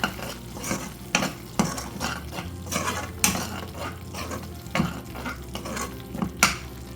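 A spoon scrapes and stirs a salted paneer masala in a pan in quick repeated strokes, clattering against the metal over a soft background sizzle, with no voices.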